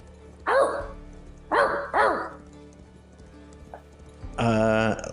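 A person imitates a dog bark outdoors in the woods near a riverbank, three sharp bark-like yelps in quick succession, then a longer, harmonic howl-like call near the end, loud and close against a quiet background.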